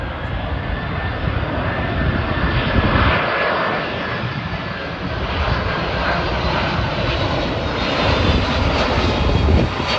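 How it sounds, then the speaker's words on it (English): Boeing 767 cargo jet of Air Transport International on landing approach to JFK, heard from Rosedale, a loud sustained engine roar and whine that swells and holds near, with no talk. "this plane coming in is a 767"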